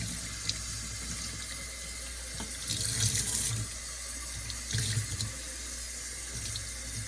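Tap water runs steadily into a fat sausage casing, about two inches wide, held in a sink, a close, continuous rushing splash that swells briefly louder twice.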